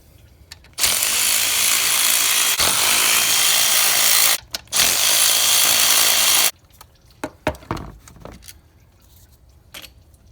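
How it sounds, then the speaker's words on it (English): A power tool zips out the three 10mm thermostat housing bolts on a 2014-2018 Chevrolet Silverado or GMC Sierra, two loud, close whirring bursts split by a brief pause, then scattered metallic clicks and clunks. "all we have to do is remove the 3 10mm bolts and remove the thermostat housing"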